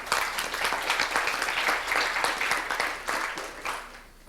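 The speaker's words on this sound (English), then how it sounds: "why don't we give our speaker another round of applause?" Sustained applause from an audience after a technical talk, many hands clapping steadily at a fairly loud level before tapering off slightly near the end.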